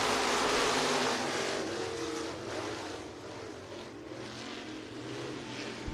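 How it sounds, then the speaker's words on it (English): Stock cars roaring away at the start of a race on a dirt track at Lee County Speedway, a dense, loud engine rumble from a distance that fades slightly and holds steady. "We're going to turn him loose and send stock cars on the way"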